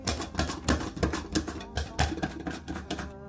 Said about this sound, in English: I'm gonna cut the carrot.